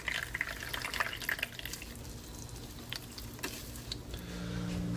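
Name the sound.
coconut milk dripping through a bag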